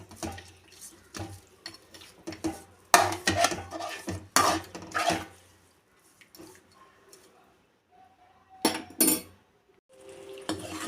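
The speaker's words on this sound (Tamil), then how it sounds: "இது ஒரு வாட்டி கலக்கி விட்டுருங்க" Chicken roast with water cooking in a pot, stirred with a utensil in a few bursts of scraping and clinking metal, loud and close, separated by quiet pauses with a light bubbling simmer.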